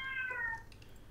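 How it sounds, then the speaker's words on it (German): A single short cat meow from Minecraft, a quiet, clear mewing call lasting about half a second, heard alone against faint background. "Oh, Katze, dein Ernst?"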